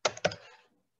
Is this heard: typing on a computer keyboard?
yes